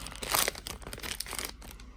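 A quick crinkly tearing of a plastic trading card pack wrapper, close up, with a burst of crackling at the start followed by smaller rustles.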